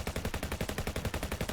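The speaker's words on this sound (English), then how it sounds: "Gunfire!" Rapid automatic gunfire in the video game FF7 Ever Crisis, loud close bursts in a fast, even rhythm with no talk.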